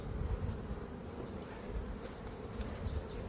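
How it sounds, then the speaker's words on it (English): Honey bees preparing to swarm buzz around a beehive lid, a faint, continuous droning hum from many insects, steady and close with no talking. "This lid still has a whole bunch of bees on it too."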